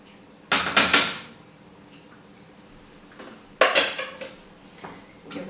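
Drained beans are tipped from a container into a pan of simmering sauce, giving two short bursts of clattering, scraping metal knocks a few seconds apart, close and fairly loud over a quiet background, with no talking.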